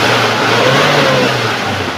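A 2016 Suzuki Carry Futura pickup engine is revved, giving a loud, close, brief rising engine roar with no talk.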